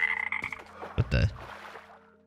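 A frog in the video game Metro Exodus gives a few close, throaty croaks, a deep burst in the middle of the clip, with quiet ambient tones behind it.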